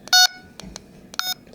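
Short electronic beeps from a device's volume key stepping through seven levels, the same kind of control as on a detector; a few crisp tones in quick succession, close and clear, with no talk.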